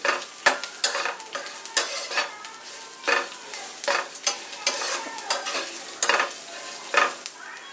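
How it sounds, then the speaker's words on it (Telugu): Spoon stirring turmeric into bottle gourd and moong dal frying in a pan, with repeated scraping strokes over a steady close sizzle and no talking. "పసుపు వేసుకుని కొంచెం ఇలా అనుకుని"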